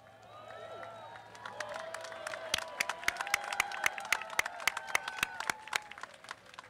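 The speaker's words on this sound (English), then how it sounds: "you already joined me in a round of applause" A graduation ceremony audience applauds in a large hall, a dense, sustained patter of many hands with sharp individual claps cutting through, swelling and then tapering off near the end.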